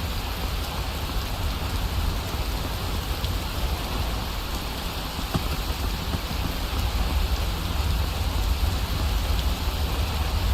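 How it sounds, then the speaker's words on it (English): Steady rain falls in the video game Skyrim, a dense, even hiss of drops on the ground that carries on without a break and with no voices. "I hope this rain stops again soon."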